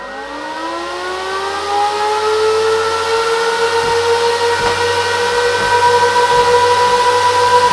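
An Antminer A3 ASIC cryptocurrency miner runs loudly after booting, its cooling fans giving a steady, continuous whine with rising tonal harmonics that hold throughout, close and unbroken with no talking.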